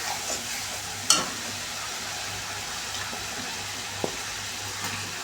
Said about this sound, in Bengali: মশলা ভালো করে কষে নিচ্ছি এখানে গোটা গরম মশলা একটা দিয়ে দিলাম